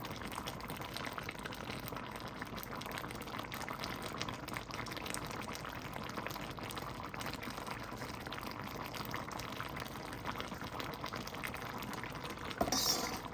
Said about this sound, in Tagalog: Kuluan natin ng mga 5 minutes.